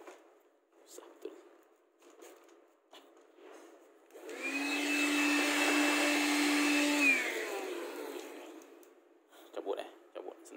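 A Makita or Milwaukee cordless vacuum cleaner switches on and runs with a steady, loud whine for a few seconds before stopping, with a voice talking before it starts and scattered handling noises around it.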